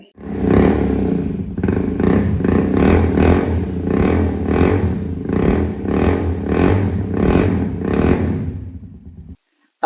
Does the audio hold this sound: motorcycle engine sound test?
yes